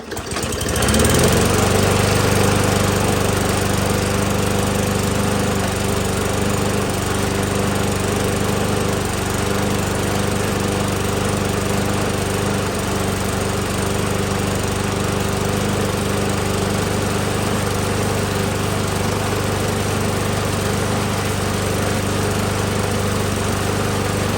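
A Murray lawn mower engine runs continuously at a loud, steady drone for the whole stretch, close by, with no talking.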